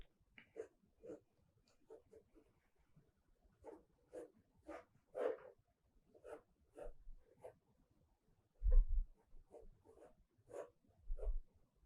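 Pencil strokes on paper while sketching the head of a Buddhist monk figure, a series of short scratchy marks in irregular bursts, close and fairly quiet, with a few soft low bumps between them.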